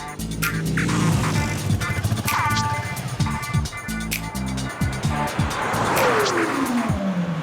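Traffic on a road during a strike rolls past with loud engine drones, horn-like tones and a tire screech, one vehicle sweeping by and fading in pitch near the end, no talk.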